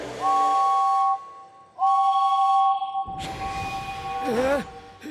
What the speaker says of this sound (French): James siffle aussi fort qu'il peut